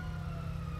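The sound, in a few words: police car siren in video game GTA 5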